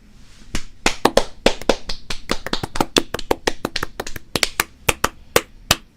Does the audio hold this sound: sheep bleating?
no